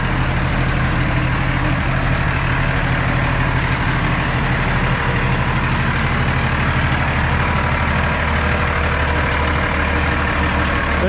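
A 2010 W900 truck with a Cummins ISX engine idles, a deep, steady diesel rumble that holds constant and close throughout.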